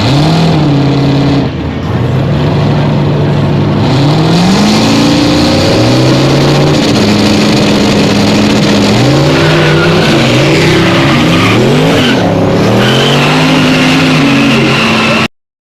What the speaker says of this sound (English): Ryan Betts out of Edinburgh, the 98 Camaro will move on.